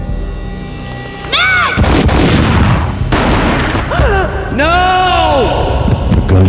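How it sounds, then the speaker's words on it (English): Gunshots boom in the Max Payne video game, loud impacts layered with dramatic game score and bursts of noise across the clip. "A gunshot boomed and she fell down in slow motion."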